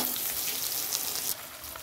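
Rice frying in a wok with oil, onion and chili, a close continuous sizzle and crackle that drops slightly in level partway through, with no talk.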